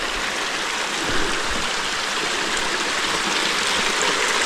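Stream water on the Appalachian Trail runs steadily and close by, a full broadband rush with small splashing drops throughout and no voices.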